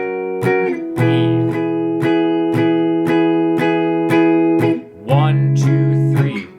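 Strummed guitar chords in the progression of a song: a steady run of bright, ringing downstrokes, each one sustaining into the next. The chord changes near the end after a brief dip.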